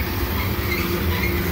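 A freight train made up of oil tanker cars rumbles past close by, with a steady heavy roar and rolling wheel noise on the track and no talk over it.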